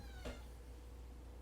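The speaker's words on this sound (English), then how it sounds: "There's a four-legged meowing monster roaming the premises." A single short meow from a house cat, faint and somewhat distant, rising once over a low steady room hum and then fading to quiet.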